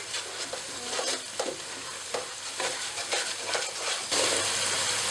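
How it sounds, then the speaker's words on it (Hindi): Spices frying in a pot for beef pulao give a loud, dense, continuous sizzle broken by repeated scraping strokes of a stirring spoon, growing slightly louder near the end. "अब मैं इसमें स्पाइसेस ऐड करूंगी और 2-3 मिनट तक इसे भूनूंगी।"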